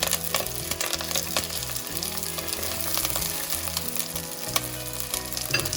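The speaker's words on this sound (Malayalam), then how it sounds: "പിന്നെ ഇട്ട് കൊടുക്കുന്നത് ജിഞ്ചർ ഗാർലിക് പേസ്റ്റ്. എന്നിട്ട് നമുക്ക് നല്ലോണം ഒന്ന് മിക്സ് ചെയ്തെടുക്കാം." Ginger garlic paste frying and being stirred in a pan for a Kerala-style crab roast with curry leaves: a loud, continuous close sizzle with scraping stir noises throughout and no talking.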